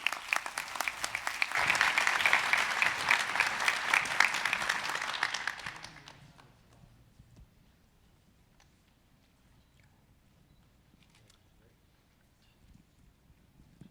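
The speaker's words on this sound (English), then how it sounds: "Let's give them a round of applause as they come through." Audience applause for students presenting at a STEM education event builds over the first six seconds, then fades into quiet room noise with faint murmurs.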